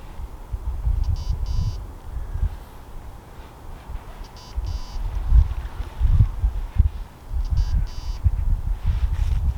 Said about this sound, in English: Apologies for the beeping, my battery's low on the bite alarm.